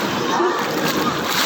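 Churning water in a wave pool surges and splashes like the sea, a dense, loud, continuous wash with children playing nearby and faint voices mixed into the roar.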